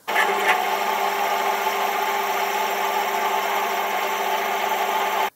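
A drill boring a 7.5mm hole in a metal block, its motor and cutting sound a steady, loud, continuous whir with no break for about five seconds.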